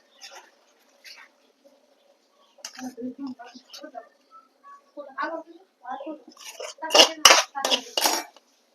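A spoon clinks and scrapes against dishes while carrot halwa is served, with a few bright clattering strikes near the end, a voice speaking throughout.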